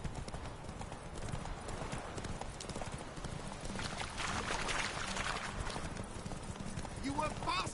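Horse hooves gallop in a horse race in The Witcher 3 on PS5, a rapid, steady clip-clop drumming throughout with a brief whinny near the end, under game voices and ambient sound.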